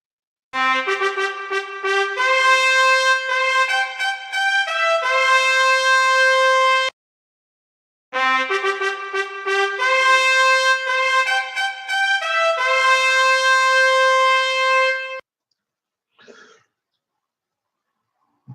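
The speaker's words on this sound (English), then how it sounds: "That is the sound of the trumpet that you've just heard." Two long trumpet calls of bright, sustained brass notes in stepped phrases, each lasting about seven seconds with a short silence between, played loud and clear with no voices, followed by a faint brief sound near the end.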